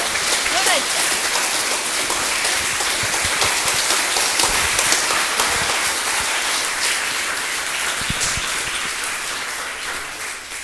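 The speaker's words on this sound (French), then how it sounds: "je vous demande de l'applaudir très chaleureusement" A large audience claps warmly and continuously for a presenter at a French Polynesian thesis event, a dense, even roar of applause lasting throughout and gently fading near the end.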